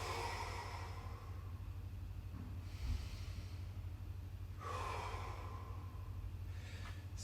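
Slow, soft breaths drawn in through the nose and released through the mouth during a stretching exercise, two or three faint airy swells over a steady low hum, no talking.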